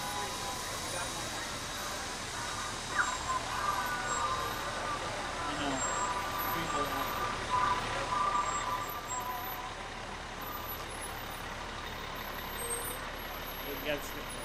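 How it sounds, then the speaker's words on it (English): A Lake Toxaway Fire and Rescue fire truck rolls down the road in a Christmas parade in Cashiers, North Carolina, its engine rumbling steadily from mid-distance beneath crowd noise, with a brief horn-like tone. "The fire truck coming down the road is from Lake Toxaway Fire and Rescue."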